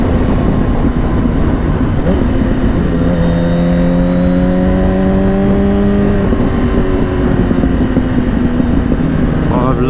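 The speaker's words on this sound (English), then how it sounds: "I'm loving those backfires out the back as well" A 2007 Yamaha R1 motorcycle engine revs loudly and steadily with rising and falling pitch, loud and close, with exhaust note throughout and a voice speaking over it.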